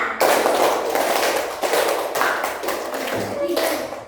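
A class clapping hands in a counted rhythm exercise makes repeated bursts of loud, crowded claps in groups, with a voice faintly underneath.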